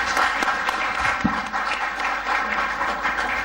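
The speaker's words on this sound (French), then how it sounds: "Et puisque vous applaudissez" A large audience applauds at a political speech about Congo's sovereignty, dense steady clapping filling the room continuously with a faint voice underneath.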